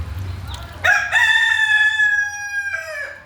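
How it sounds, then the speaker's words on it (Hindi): A farm rooster crows one loud, close, sustained cock-a-doodle-doo that rises sharply and holds before trailing off, with faint background noise and no talk. "ये कौन सा टाइम है भाई बांग देने का?"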